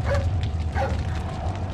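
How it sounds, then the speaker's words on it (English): A dog in the Resident Evil 4 video game gives a few short yips and whimpering barks, close and fairly loud over a low rumbling game background, with no voices. "Hey, it's that dog."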